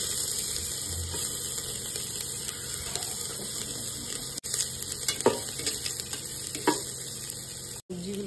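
Garlic and chopped ginger fry in butter in a pan for a chicken soup, making a steady, close sizzle with a few soft stirring knocks.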